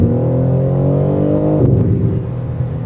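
A BMW G80 M3 fitted with a mid pipe, valve controller and MST intake, its exhaust holding a loud steady drone that rises in pitch, then drops into a rougher, burbling rumble, close and continuous.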